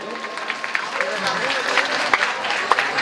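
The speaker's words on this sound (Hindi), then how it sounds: "एक बार जोरदार ताली को उछाल कर दो" Audience clapping at a Chhattisgarhi cultural programme, a sustained crowd applause with scattered sharper claps, while a voice talks over it.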